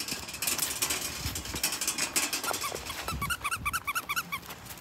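A pet dog plays with its bee toy indoors, with squeaky chirps from the toy and rattling, clicking movement throughout, the squeaks bunching into a quick run of bright repeated squeals near the end.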